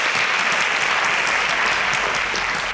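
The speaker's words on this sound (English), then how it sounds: "A round of applause." Sustained, dense audience applause on a TV quiz show, loud and steady throughout with no break, greeting a contestant after her final question.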